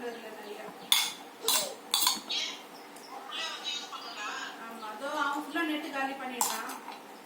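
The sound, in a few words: toy fish-frying tawa and utensils being handled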